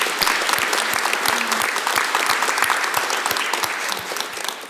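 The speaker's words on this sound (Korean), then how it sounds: "박수로 환영하겠습니다." A church congregation claps in steady applause to welcome newcomers, a dense, continuous patter of many hands filling the room at close range, with no voices over it.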